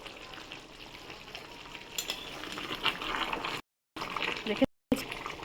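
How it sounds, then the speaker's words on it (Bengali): Chicken kosha cooks in an uncovered pan, with a soft bubbling sizzle and occasional utensil scrapes and clinks, interrupted by two brief dropouts into silence near the end. "ঢাকা খুলে আমি একবার নেড়ে দেবো কেমন হয়েছে না হয়েছে দেখুন।"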